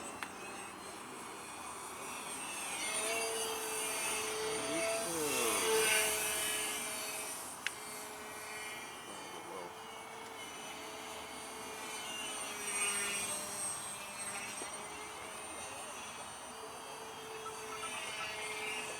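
Electric-motor R/C flying model of a Star Trek-inspired starship, a steady whining drone with harmonic tones that swells and fades as it passes through the air outdoors, with a brief click midway and no talking.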